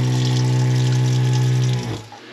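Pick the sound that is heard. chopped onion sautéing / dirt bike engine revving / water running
water running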